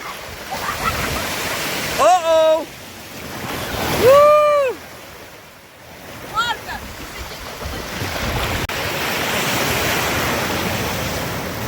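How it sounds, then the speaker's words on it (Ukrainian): Sea waves break on a beach in a loud, close, continuous surging wash, while voices call out briefly over the surf. "Такі хвилі підходять."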